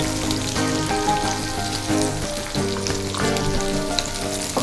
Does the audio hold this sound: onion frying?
yes